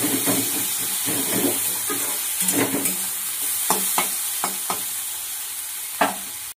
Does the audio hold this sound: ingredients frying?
yes